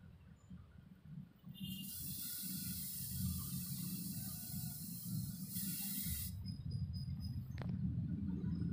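An aerosol can sprays leak sealant coating onto a leaking spot, a loud steady hiss running for about five seconds before cutting off, then a brief short spurt near the end over low background rumble.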